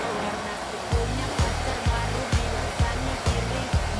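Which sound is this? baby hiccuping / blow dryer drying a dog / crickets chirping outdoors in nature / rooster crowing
blow dryer drying a dog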